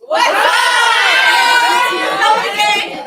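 Young MMA athletes at a youth competition press conference shout a loud group greeting together, a sustained burst of overlapping voices and cheering that holds steady for about three seconds before easing slightly.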